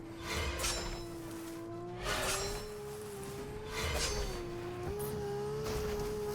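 A car in the Fortnite video game drives past with a steady engine hum that rises and falls, punctuated by several whooshing surges.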